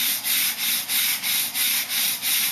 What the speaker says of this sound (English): specified number of times on a number of surfaces with a wire brush, and see how it affects the block